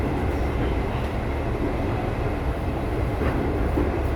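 A KRL commuter train runs toward Sudirman with a continuous loud rumble of wheels and carriages, steady throughout and free of talk.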